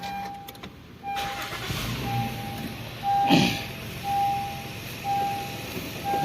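A Honda car engine with a random misfire cranks and starts about a second in, then idles steadily as a high electronic warning chime beeps at intervals over it.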